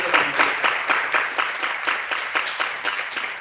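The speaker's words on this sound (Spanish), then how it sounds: "Y a la que le brindamos un fuerte aplauso." Applause from an audience at a university human rights event in honor of an acting director, steady clapping over a few seconds, moderately distant.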